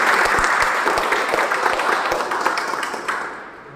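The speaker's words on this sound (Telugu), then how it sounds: "డాక్టర్ ఎన్ఎం రావు గారికి ఒకసారి గట్టిగా చప్పట్లు" An audience at an event breaks into strong applause, a dense crowd of hands clapping loudly at once that fades away toward the end.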